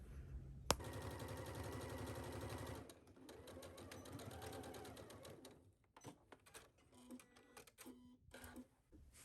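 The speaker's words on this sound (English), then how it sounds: "we are going to pin and sew this at 5/8 of an inch seam allowance" A sewing machine stitches a 5/8 inch seam in fabric for a skirt, a fast, steady mechanical whir close by that pauses, then restarts in short, uneven bursts with clicks between.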